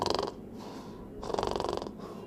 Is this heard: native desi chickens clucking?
no